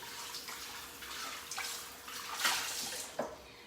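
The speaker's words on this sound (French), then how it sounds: "pour réutiliser le moule, on le rince juste à l'eau courante" Running tap water splashing over a cake mould as it is rinsed at a kitchen sink, a soft continuous patter with a few louder splashes near the end.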